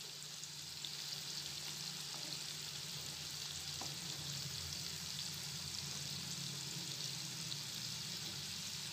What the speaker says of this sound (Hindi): गोल्डन ब्राउन होने तक इसको तलेंगे।